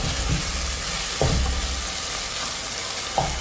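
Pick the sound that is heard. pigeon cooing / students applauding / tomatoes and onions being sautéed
tomatoes and onions being sautéed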